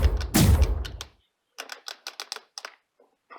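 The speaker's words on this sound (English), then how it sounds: "the turret, and makes a clicking noise." A burst of whirring motor noise followed by a series of rapid, light mechanical clicks from a 1980 Star Wars Empire Strikes Back toy turret turning, close and fairly crisp, with brief pauses.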